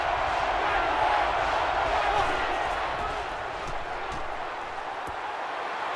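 Football stadium crowd roars during a third-down play, a dense, continuous wall of distant voices and noise that stays loud and steady, easing slightly toward the end.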